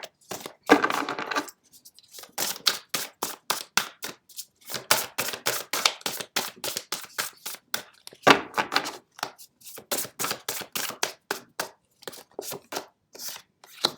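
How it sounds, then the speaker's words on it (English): Tarot cards being shuffled by hand, a dense run of quick riffling, flicking clicks and papery slaps in bursts with brief pauses, close and alone with no talk. "Wow, these cards are a little hard to shuffle."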